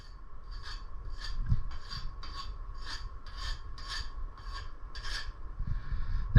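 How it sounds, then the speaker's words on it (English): A file scrapes over the hardened steel of a forged kiridashi knife in about a dozen quick, rhythmic strokes with a slightly ringing edge, close and steady, with no voices. "You hear that? There's a slightly different ring to it."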